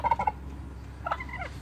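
Wild turkeys gobble nearby outdoors, two short rattling bursts a second apart, clear and fairly close with quiet background between.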